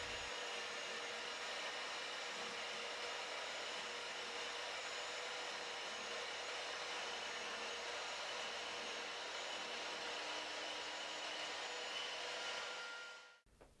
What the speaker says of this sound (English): Slide the saw blade away from you until the material is cut.